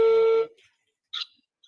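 A telephone call being placed: a steady electronic ringing tone that cuts off after about half a second, followed by a few brief faint beeps and clicks in near silence.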